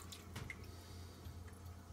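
Water runs steadily into a new washing machine during a farm housing inspection, a soft continuous trickle and splash with faint dripping, quiet and fairly close.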